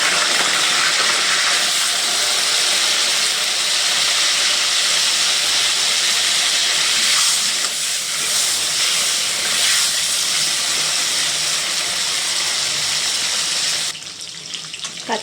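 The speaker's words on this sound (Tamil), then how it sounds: "எண்ணெய் நல்லா காஞ்சதும் கத்திரிக்காயை எண்ணெயில் போட்டு பொரித்து எடுத்து வச்சுக்கலாம்" Eggplant frying in hot oil in a kadai gives a loud, dense, continuous sizzle and hiss that holds steady and then drops noticeably near the end.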